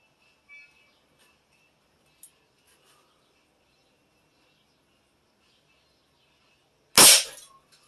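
A single sharp gunshot firing a 49 grain Hunters Choice slug cracks loudly near the end, after several seconds of near silence broken only by a couple of faint clicks.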